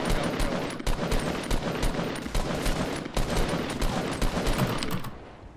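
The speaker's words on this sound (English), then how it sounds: "I shot 20 bullets into one guy and I got 0 hits." Rapid automatic gunfire in the Fortnite video game, dense bursts of shots fired almost continuously and loudly for several seconds before cutting off.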